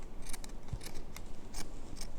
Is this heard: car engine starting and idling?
no